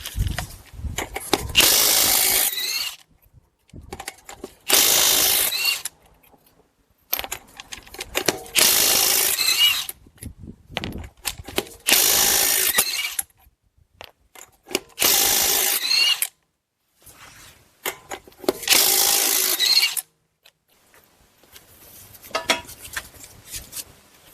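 A power tool on the 22 mm wheel lug nuts of a 2018 Buick Enclave whirs in about six loud, close bursts of two to three seconds each, with brief clatter and quiet gaps between runs.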